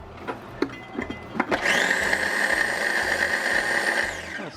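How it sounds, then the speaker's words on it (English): A mini food chopper whirs steadily for about three seconds as it chops Italian parsley, preceded by a few clicks and knocks as it is set up. "I'm going to put that in my mini food chopper."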